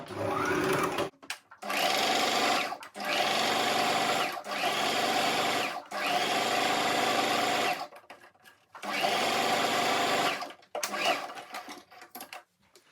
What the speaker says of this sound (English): going to take it to my sewing machine and stitch it down from here to here